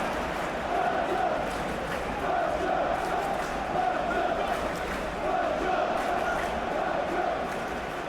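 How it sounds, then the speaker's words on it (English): Stadium crowd atmosphere in the eFootball PES video game during a Belgium vs Senegal World Cup match, a steady swelling roar and chanting from a large distant crowd with no talk. "the atmosphere, Peter, certainly doesn't feel like a friendly"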